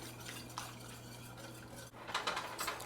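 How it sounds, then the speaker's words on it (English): White sauce stirred in a pan on the stove, a spoon scraping and knocking against the metal in repeated soft strokes over a steady low hum. "Now we're just going to continue stirring this until it thickens."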